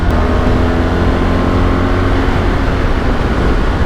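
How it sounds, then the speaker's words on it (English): A 2025 BMW 1300 GSA motorcycle's boxer engine gives a deep, steady drone with a throaty rumble and wind rush, loud and constant throughout. "Really nice boxer engine sound."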